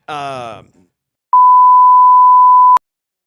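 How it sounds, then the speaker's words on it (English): A steady electronic censor beep bleeps over swearing on a podcast, a single clean tone lasting about one and a half seconds after a brief burst of talk. "They're just gonna do the beep"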